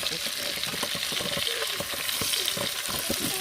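Onions fry in a pan for kabsa, giving a steady, close, dense sizzle with light stirring scrapes throughout and no other sounds.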